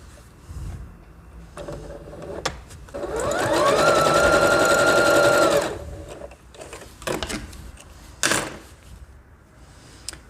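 A domestic sewing machine runs a straight stitch in a steady whirring burst of about three seconds, close by, surrounded by handling clicks and fabric rustles before and after.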